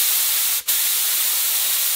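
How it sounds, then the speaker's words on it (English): A spray gun applying PVA release agent for fiberglass mold making gives a loud, close, continuous hiss with one brief break near the start. "It's spraying, it dries almost instantly."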